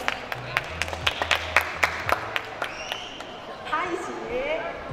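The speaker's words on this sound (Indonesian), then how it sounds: "Boleh tepuk tangannya teman-teman." An audience at a student talk show event claps in short, scattered, moderately loud bursts that thin out after a few seconds. Faint voices follow toward the end.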